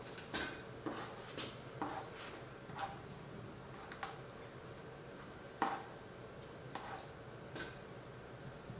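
Scissors snip the corners of a layered haircut, producing sparse, crisp metallic clicks at irregular intervals, close and quiet in a calm room.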